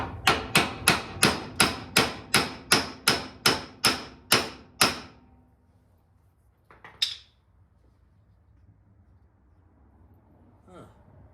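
A hammer strikes metal on a slam mower about a dozen times in a steady, evenly spaced rhythm, ringing sharply up close, followed by a couple of lighter knocks.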